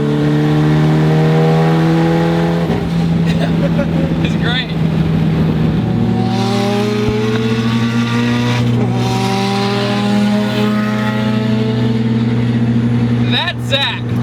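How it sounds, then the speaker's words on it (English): A Mitsubishi Evo accelerates in fifth gear, its engine droning in a low steady rise with a turbo spooling up over it, heard from inside the car while a person speaks briefly. "Even in fifth gear, you get a lot of the turbo spool sound."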